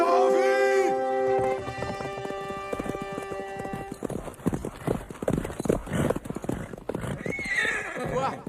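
A horse neighs loudly at the start, followed by rapid galloping hoofbeats that pound on steadily, with a second whinny near the end, in a dramatic film scene.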